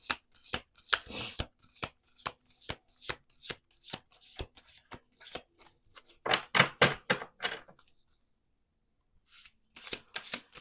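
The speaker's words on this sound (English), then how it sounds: "We're going to do 2 more shuffles" Repeated crisp riffle-and-bridge card shuffling, a rapid patter of snaps in bursts with brief pauses, close up and no talking.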